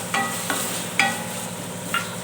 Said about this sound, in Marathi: आता ह्या स्टेजला आपल्याला जो आपण टोमॅटो घेतला होता तो घालून घ्यायचा आहे. टोमॅटो आपल्याला छान असा परतून घ्यायचा आहे.